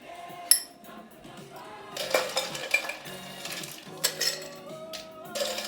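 Cocktail shaker and metal bar tools clinking as a French Martini is built, scattered sharp clinks and scrapes at close range, fairly quiet, with no talk.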